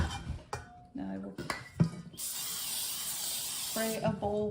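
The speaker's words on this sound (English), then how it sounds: "spray a bowl with baking spray" A can of baking spray hisses into a bowl in a home kitchen in one steady burst of about a second and a half, with a person talking just before and after.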